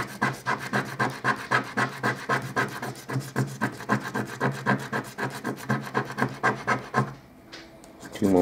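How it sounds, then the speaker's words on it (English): Rapid, steady rasping of a coin scratching a Tetris lottery ticket from the Michigan Lotto, close and continuous for about seven seconds before stopping, with a brief quieter rustle at the end. "Too much scratching."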